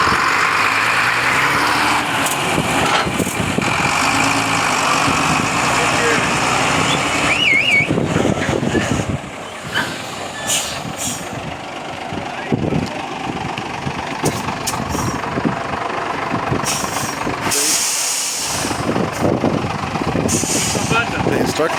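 A heavy truck on a mountain road pulls away from a stop and drives on, its engine rumbling loud and steady throughout with air-brake hisses, while people talk over it.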